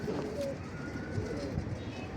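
A pigeon, an Australian breed, coos softly and steadily against a low, continuous background murmur; the low cooing is faint and close throughout.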